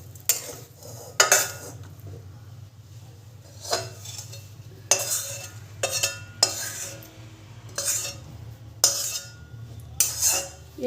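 A spoon mixes idli batter with masala in a bowl, making irregular clinks and scrapes in short bursts over a low, steady background hum.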